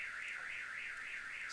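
A boiler overheat alarm siren wails in a steady, rapid up-and-down warble, sounding somewhat distant and thin, continuous with no voices.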